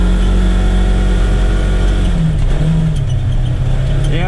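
A Polaris Ranger XP1000 engine, fitted with a Hunterworks belt, holds a loud, steady high rev around 5,600 RPM, with the pitch dipping and settling as it runs continuously throughout.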